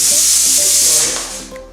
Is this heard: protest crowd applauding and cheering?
no